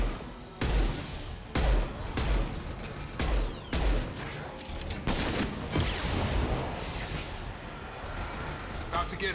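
Rifle fire in Mass Effect 2: a handful of heavy, booming shots spaced about a second apart, each with a sharp broadband crack, then a steadier stretch of mixed combat noise and effects.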